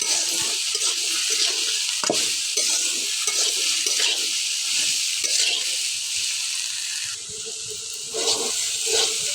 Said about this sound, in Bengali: এখন আমার ভেন্ডি ভাজি প্রায় হাফ হয়ে আসছে